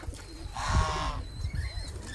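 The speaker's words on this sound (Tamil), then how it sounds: "இறங்கின புறா தன்னால் திரும்ப எழும்பி பறந்துட்டடக்க" Racing pigeons on their first day of training give a soft, low coo close by, one brief rolling call over faint outdoor background noise.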